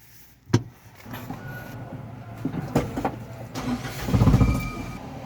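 Suzuki Multicab being started after an oil change, a sharp click, then the starter cranking briefly before the small engine catches and idles near and moderately loud, with no talking.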